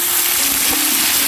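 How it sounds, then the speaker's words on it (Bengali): Chopped onion hits hot oil already sizzling with cumin and dried chilli, giving a brief, close, loud crackling fry with no talk. "ফোড়নটা ভাজা ভাজা হয়ে গেছে, ওর মধ্যে দিয়ে দিচ্ছি কুচিয়ে রাখা পেঁয়াজ"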